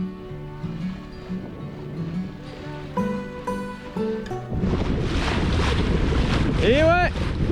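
Sailboat motoring at sea, heard first as a low, steady engine hum under musical tones, then giving way to loud, rushing wind buffeting the microphone with rising whistle-like squeals near the end.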